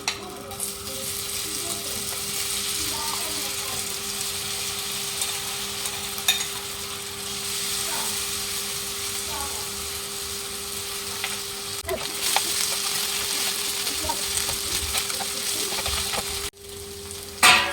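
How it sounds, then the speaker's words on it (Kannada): Paneer frying in two to three tablespoons of hot oil makes a continuous crackling sizzle with occasional spoon clinks, close and steady, with no talking over it. "ಫ್ರೈ ಮಾಡ್ಕೊಳ್ಳಿಕ್ಕೆ ಸೊ ಬಿಸಿ ಆಗ್ತಿದ್ದಾಗೆ ಪನ್ನೀರನ್ನು ಹಾಕ್ಕೊಳ್ತೀನಿ"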